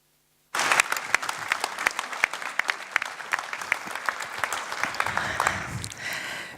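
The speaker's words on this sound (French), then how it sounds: "Donc merci Thierry, on l'applaudit." A crowd at a mayor's New Year wishes ceremony breaks into applause, dense sustained clapping from many hands with sharp individual claps throughout, continuing steadily for several seconds.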